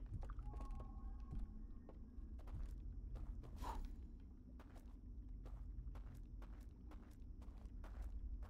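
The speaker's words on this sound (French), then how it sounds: "les bruits de pas au-dessus, là, ça me stresse" Footsteps in a dark house in Outer Wilds, a steady run of soft, regular thuds from overhead, quiet over a low constant background rumble.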